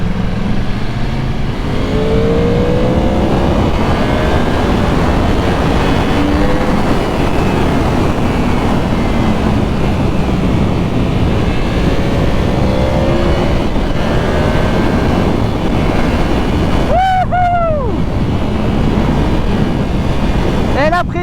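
A Yamaha R1 sport motorcycle ridden on the road, with a loud, steady engine drone and wind rush throughout, some rising and falling engine pitch, and a brief sharp rev near the end.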